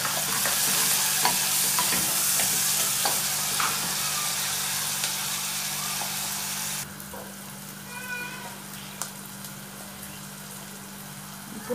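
Onions fry with salt in a pan in a Kenyan home kitchen, giving a loud, steady close sizzle that drops suddenly to a softer crackle partway through, with a few brief high tonal squeaks near the end.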